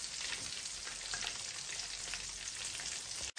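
Chicken leg pieces frying in oil give a steady, dense sizzle with fine crackling spread evenly throughout, close and continuous with no talking.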